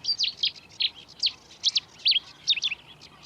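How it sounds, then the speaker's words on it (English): Reed and sedge warblers sing in quick, scratchy bursts of chirps and trills, a busy run of high notes over quiet background. "reed warblers singing away, sedge warblers singing away as well"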